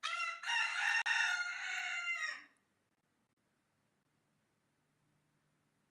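A rooster crows nearby, a loud, harsh call lasting about two seconds with a brief break near the start, then cutting off into near silence.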